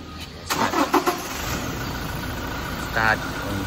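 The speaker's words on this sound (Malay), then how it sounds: "Dia naikkan minyak tu sekejap untuk dia cek minyak." A car engine turns over and catches during a routine service, with a few quick revs near the start and another short rev burst later, over a steady workshop hum.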